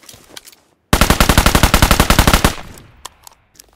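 A rapid automatic burst fired at close range in PUBG Mobile, about twenty evenly spaced loud shots over a second and a half, followed by a few scattered clicks and taps.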